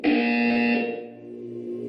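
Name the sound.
buzzer in a video game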